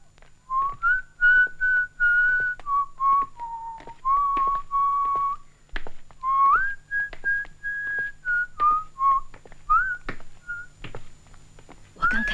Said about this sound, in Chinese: 我来给你们吹个口哨怎么样？